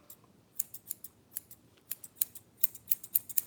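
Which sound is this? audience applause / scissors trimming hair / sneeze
scissors trimming hair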